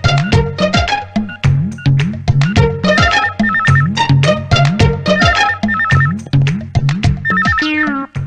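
A telephone rings repeatedly in a Telugu comedy film scene, with loud, close electronic ringtone bursts in a fast, regular pattern that fill the whole stretch with no talking.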